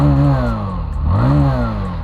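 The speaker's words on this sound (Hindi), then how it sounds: "देखो रिफाइंड एग्जॉस्ट थंब है।" A Bajaj Platina 110 motorcycle engine running close by, a loud steady low exhaust thump with its pitch dipping and rising slightly as the throttle eases and returns.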